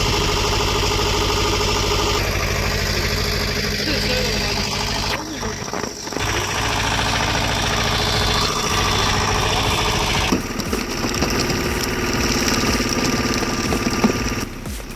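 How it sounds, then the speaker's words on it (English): A heavy-duty hydraulic log splitter runs on its engine outdoors, giving a steady, loud mechanical drone with knocking and vibration, joined partway through by a few sharp clanks and shifts in load. "this extreme splitter runs a Menzie muck engine to drive its heavy-duty hydraulics"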